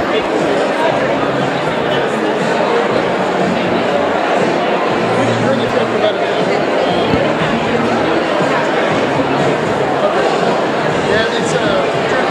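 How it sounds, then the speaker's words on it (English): Dense crowd chatter fills a busy business event where people mingle over food, many overlapping voices forming a loud, steady, close hubbub with no pauses. "A lot of people mingling, a lot of good food here and everything."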